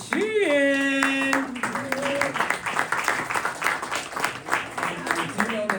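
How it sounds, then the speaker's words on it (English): Audience applause at a live community event in Greenburgh, clapping building behind an announcer's voice and a loud whoop, then steady dense hand claps continuing for several seconds. "Let's give her a round of applause"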